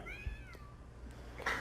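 A virtual cat in an augmented reality app gives a single clear meow with a rising-falling tone, fairly close, followed by a brief faint rustle, no speech.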